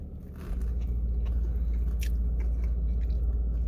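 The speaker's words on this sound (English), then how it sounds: "I'm gonna finish eating this Texas Roadhouse raw E. coli burger" Close, wet chewing and biting on a Texas Roadhouse burger, with soft crunches and squishy mastication repeating steadily over a low rumbling background and no talking.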